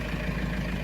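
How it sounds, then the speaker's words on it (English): A diesel tractor engine idles, left running so its diesel particulate filter can regenerate: a dense, steady low rumble close by, with no talking. "Gotta leave the tractor on because the diesel particulate filter is telling me that I need to run it"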